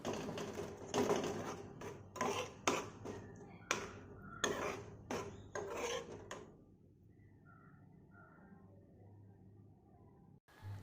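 A spoon stirring passion fruit curry in a pan, a run of quick scraping taps and rubs in short bursts for about six seconds, then quiet near-silence with faint low hum.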